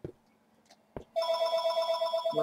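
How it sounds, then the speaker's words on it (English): A telephone rings with a steady electronic trill after a couple of soft knocks, the ringing continuous and fairly loud. "Whoops, sorry about that, that's a phone."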